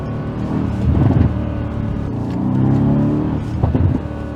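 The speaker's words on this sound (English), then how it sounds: "in Sport Plus, those downshifts, it's such a music to ear." A Mercedes C63 AMG W205 engine in Sport Plus mode rumbles and blips through downshifts inside the cabin, a loud, low, rising and falling roar that swells twice with no speech.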